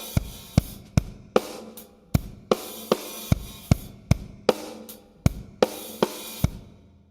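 A drum kit plays a groove, with sharp, evenly spaced kick and snare hits under cymbal wash in a steady rock pattern, close and punchy, and no talking.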